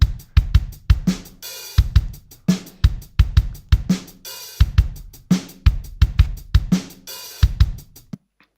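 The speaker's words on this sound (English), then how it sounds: "So this is an acoustic drum kit" A sampled acoustic drum kit plays a steady groove, punchy kick and snare hits alternating with cymbal wash in a repeating pattern, loud and upfront before stopping cleanly.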